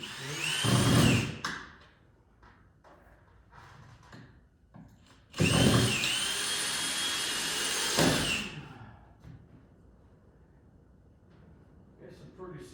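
Power drill driving screws into wall framing, two loud whirring bursts of a couple of seconds each, close, separated by quieter handling noise with some talking.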